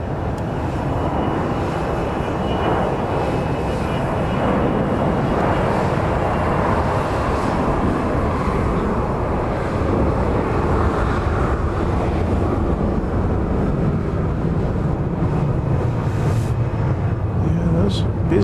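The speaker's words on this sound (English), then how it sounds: "Jets don't need a lot of runway to get launched, do they? Plenty of horsepower." Jet airliner taking off at Dallas Love Field, a loud continuous broadband roar of engines lasting throughout, steady in level, with wind noise and people talking over it.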